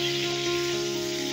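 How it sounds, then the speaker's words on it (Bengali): Pieces of pointed gourd (potol) fry in hot oil with a steady, dense sizzle that holds at an even loudness throughout, with a faint underlying hum and no voices. "পটলগুলোকে লাল লাল করে ভেজে নেব।"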